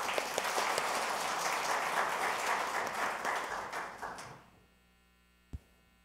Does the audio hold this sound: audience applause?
yes